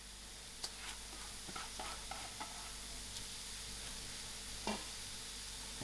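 Minced mushroom is stirred into a sizzling onion braise for stuffed rotis, an even hiss of frying under a few light scraping stirs, close and without speech.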